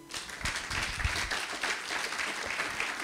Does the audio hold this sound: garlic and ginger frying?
no